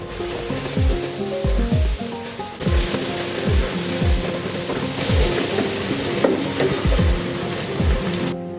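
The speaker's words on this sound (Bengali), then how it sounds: "এবার হালিম মশলাগুলো দিয়ে ভালোভাবে নেড়ে চেড়ে মাংসটা নামিয়ে রাখি।" Chicken meat is stirred with haleem spices in a hot pan. It makes steady loud sizzling and frying, with repeated scraping strokes of the spoon through the pan.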